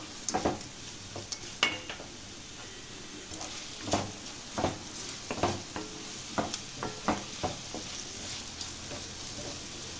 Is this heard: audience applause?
no